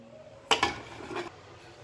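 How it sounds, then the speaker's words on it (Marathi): A metal lid goes onto a pressure cooker holding chickpeas, two quick close clanks followed by a brief rattle as it settles, in an otherwise quiet kitchen. "आता आपण कुकरला झाकण लावून घेऊ"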